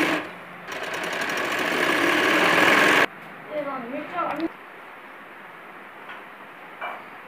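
A sewing machine runs steadily for about three seconds, stitching a loose basting seam along the lining of an embroidered blouse back neck, close and loud, followed by a voice speaking.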